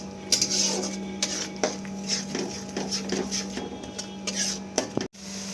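Kitchen clatter of a spoon or spatula working ground spices, including cumin powder, in a pan while they fry for a Bengali bhetki fish kalia: repeated scraping knocks against metal over a steady low hum, close and moderately loud, with no talk.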